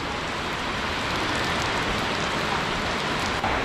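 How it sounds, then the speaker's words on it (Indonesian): Heavy rain pouring steadily outdoors at a crocodile enclosure, a dense, loud, unbroken hiss of drops on surfaces, with no voices. "nah sekarang ini ternyata hujan deras ya teman-teman"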